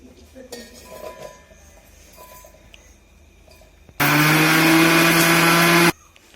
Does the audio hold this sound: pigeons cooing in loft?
no